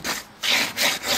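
Filler on a cracked Catalina 25 sailboat forehatch is sanded by hand, with three rhythmic rasping strokes sounding close and fairly loud, separated by brief pauses.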